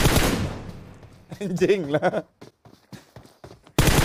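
Automatic gunfire rips out in a video game, with a dense loud burst at the start and another cut in at the very end. Someone talks excitedly in between.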